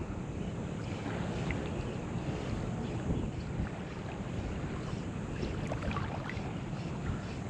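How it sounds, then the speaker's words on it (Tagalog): Wind rising suddenly while fishing at sea off Bohol in the Philippines: a constant, dense rush of air noise with a faint hiss of water beneath, steady throughout with no voices. "Biglang humangin ang panahon."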